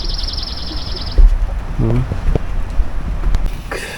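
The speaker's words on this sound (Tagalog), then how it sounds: "Ayan, ayan, may mga huni na ng ibon" A spring morning in Canada brings a high, rapid bird trill near the start and scattered chirps later, heard at a moderate distance over wind noise and a few footstep-like thumps.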